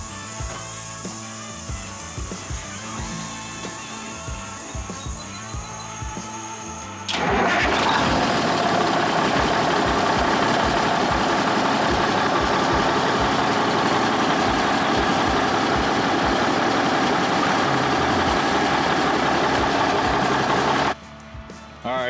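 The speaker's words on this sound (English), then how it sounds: "go turn the key on, use the push button to see if that's gonna work to start it" A 1964 Autocar truck engine is cranked over with a push button and catches at about seven seconds, then runs loud and steady at a rough idle before cutting out near the end.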